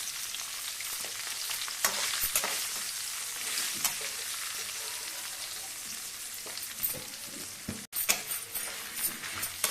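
Dried red chilies sizzle and fry steadily in a pan of oil while chutney is being prepared, with occasional stirring scrapes and clinks cutting through the continuous crackle, close and fairly loud, with no talking.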